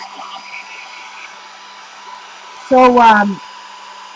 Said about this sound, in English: Hair dryer with the cool button.